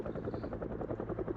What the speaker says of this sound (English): this helicopter is now flying over our immediate vicinity